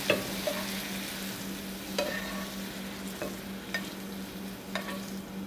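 Shrimp scampi being stirred in a pan, with soft scraping strokes every second or so over a faint steady sizzle and a low constant hum, fairly quiet and close with no voices.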